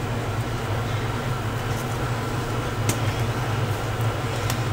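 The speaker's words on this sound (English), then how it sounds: "so I definitely have my air vent on today" An air vent blowing steadily in a hot garage, a dense, broad whooshing hiss with a low hum underneath, constant and fairly loud, with a faint tick or two but no talking.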